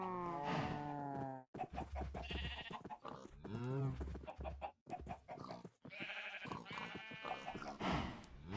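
Chickens and other farm animals in the Minecraft All The Mods 10 modpack, bleating and clucking calls in quick succession, close and fairly loud, separated by brief silent gaps, with no speech over them.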